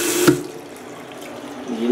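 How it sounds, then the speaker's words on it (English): Water runs from a bathroom tap in a brief, steady hiss that starts just after a sharp knock of the handle, with no voices. "And then you turn the water."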